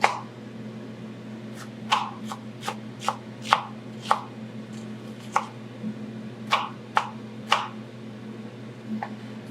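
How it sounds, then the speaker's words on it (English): A knife chops an onion on a cutting board for beef stewed in red wine, a series of crisp, close taps coming in irregular bursts over a low steady background hum. "chopping up an onion."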